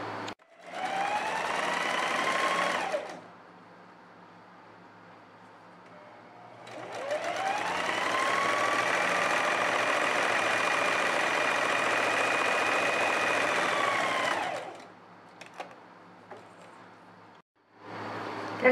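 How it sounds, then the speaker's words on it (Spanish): An overlock sewing machine stitches the side seams of a child's outfit, running in two long steady whirring bursts, the first short and the second about eight seconds long, with a brief pause between them. It is close and sounds alone, without talk. "Realizamos la costura de los laterales y realizamos un overlock."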